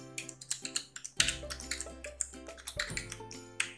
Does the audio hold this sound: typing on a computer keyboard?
yes